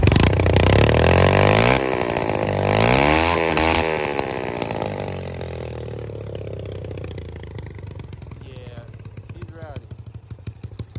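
A Honda Grom 125cc motorcycle engine cranks and fires up loud and close. It revs in a couple of rising and falling bursts, then settles into a fast, rattly idle.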